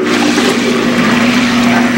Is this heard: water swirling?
yes